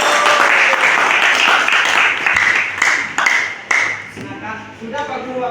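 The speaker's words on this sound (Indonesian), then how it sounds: "Berikan tepuk tangan dulu guys." Students in an Indonesian classroom clap together in a dense burst that thins out into a few scattered claps toward the end, with voices mixed in underneath.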